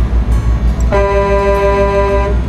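A deep truck air horn sounds once in Euro Truck Simulator 2, a loud sustained blast of about a second and a half over a rumbling engine drone.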